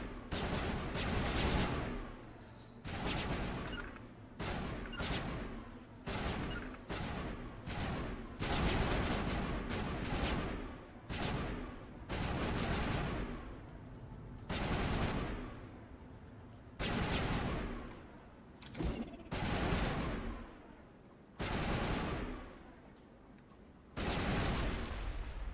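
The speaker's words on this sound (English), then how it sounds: "Boy, you guys are shooting way off." Sustained, dense gunfire in the video game Mass Effect, with rapid bursts and volleys of shots repeating in waves and only brief pauses between them, loud and close, with no talking.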